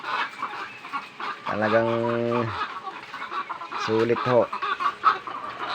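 Egg-laying farm hens cluck in two drawn-out bursts, close and clear, while someone talks over steady background noise.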